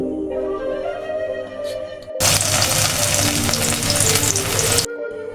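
Chopped onions hiss and sizzle loudly in hot oil with cinnamon and cardamom, a sudden dense frying burst after a quieter start of faint clinks, then cutting off sharply near the end.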